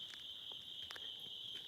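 Crickets chirping outdoors under a tree, a faint continuous high-pitched trill running without pause, with a few soft rustles and steps nearby.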